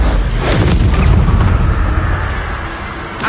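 A heavy booming blast from the Bombarda spell in the video game Hogwarts Legacy, loud and full, with a rumbling decay over a dense, continuous game soundscape.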